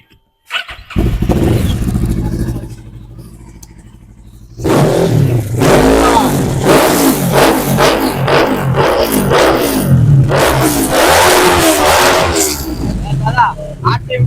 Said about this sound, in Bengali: গাড়িটা সাউন্ডটা চেক করিয়ে দিই চলো স্টার্ট দাও স্টার্টটা